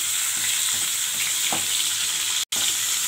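Onions, cashews and raisins sizzle steadily in hot oil for chicken biryani, a dense, close frying hiss with faint scraping stirs and a momentary dropout near the end.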